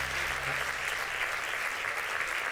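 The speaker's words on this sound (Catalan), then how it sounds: "Un fort aplaudiment pel Pau Reig." An audience applauds a giant at the Solsona Carnival in Catalonia, a steady, dense wash of clapping that holds at even loudness throughout.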